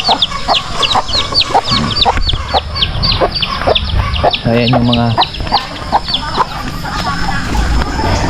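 Farm laying hens cluck and chirp in quick repeated bursts at close range, a steady chattering flock sound, with a person talking briefly partway through.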